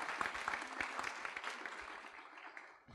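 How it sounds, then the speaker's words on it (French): Applause from a conference audience at a French talk on free software in society, dense and steady clapping for about three seconds that fades slightly toward the end. "vous pouvez l'applaudir quand même"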